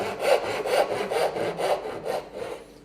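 A Western hand saw cuts through wood in about six rhythmic push-pull strokes, each a coarse, rasping scrape, close and fairly loud and heard alone before it fades out.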